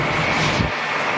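A 24-year-old Boeing 767 jet airliner takes off at Atlanta airport, its engines giving a loud, steady broadband roar that fills the whole moment.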